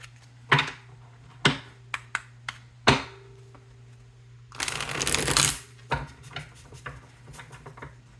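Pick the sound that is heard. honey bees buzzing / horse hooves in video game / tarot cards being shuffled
tarot cards being shuffled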